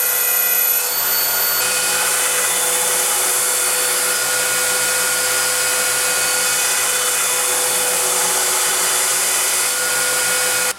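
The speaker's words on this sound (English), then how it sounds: "I'm sharpening it to roughly a 45-degree angle, going up to a 30 micron belt for the final edge." A belt grinder sharpens a homemade woodturning roughing gouge with a steady, loud, high-pitched whine that runs almost without a break before cutting off at the end.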